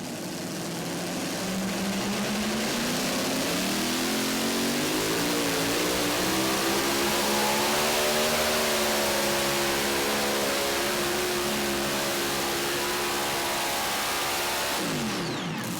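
The Wicked modified pulling tractor, run out of Shelbyville, Indiana at the National Tractor Pulling Championships, roars at full power through a pull, a loud, continuous engine note rising and holding steady before easing off at the end.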